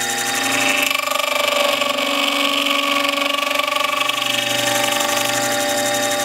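A gear-cutting machine on its final pass, cutting the teeth of a 56-tooth gear, gives off a steady, loud, close mechanical whine with layered tones and a constant grinding texture.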